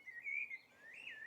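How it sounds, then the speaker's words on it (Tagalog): A few thin, high chirps from birds in the trees of a garden in Jerusalem, faint and fairly distant against a quiet background. "May mga ibon sa taas."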